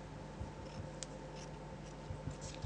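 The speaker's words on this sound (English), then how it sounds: "Take the scissors." A few quick, faint snips of scissors cutting through a thin rubber dam sheet, isolated clicks spread across a quiet room with low background hum.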